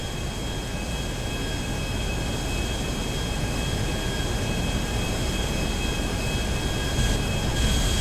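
A jet airliner in GTA 5 makes a steady, loud roar of engine and rushing air that holds evenly throughout, with high whining tones on top and no talk.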